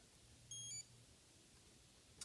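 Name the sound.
Suunto Core watch stopwatch tone guide beep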